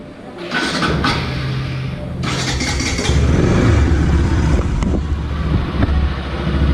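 A motorcycle engine starts and settles into a steady, throaty warm-up idle close by, rumbling continuously with slight rises in revs.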